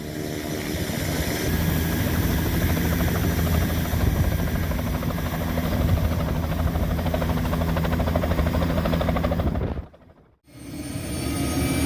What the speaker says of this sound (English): the chopper that's coming for me was cleared to land